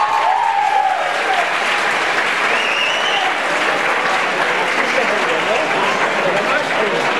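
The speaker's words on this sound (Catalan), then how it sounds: "Un fort aplaudiment" Loud, sustained applause from a large crowd at a high school graduation ceremony, continuous clapping filling the whole stretch with a few faint voices mixed in.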